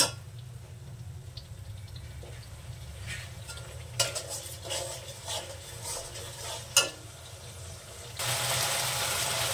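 Ginger, garlic, cumin, green chilli and onion paste is stirred and fried in a pan with soft sizzling and occasional spoon scrapes, ending in a louder, steadier hiss.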